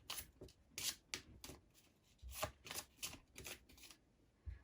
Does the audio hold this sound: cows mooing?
no